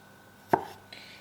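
A kitchen knife slices an ingredient in half for Northeastern Chinese crispy sweet and sour pork, giving one crisp, close chop onto the cutting board, with a faint scrape trailing after it and quiet all around.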